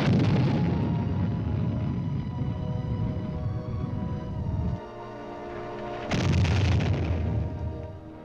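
Modern army artillery, La Crosse and Honest John rockets and guns, fires in a sustained, loud roar of booming blasts, with a brief dip midway and a sharp new blast near the end.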